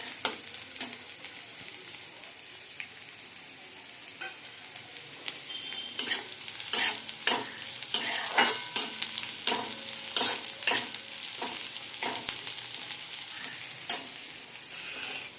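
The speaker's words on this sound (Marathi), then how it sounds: "चला तर तोपर्यंत आपला इथे कांदा फ्राय झालेला" Chopped onion fries in a hot pan, a continuous sizzle under repeated scraping stirs that grow busier and louder in the later half.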